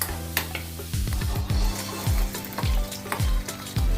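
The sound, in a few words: garlic and tempering spices frying in oil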